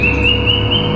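A wikwik bird gives a brief, sustained high whistling call, loud and close, over a steady low background hum with no talk.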